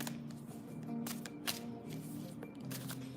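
Playing cards being shuffled up close, a series of quick riffling bursts and soft flicks, fairly quiet and without talking.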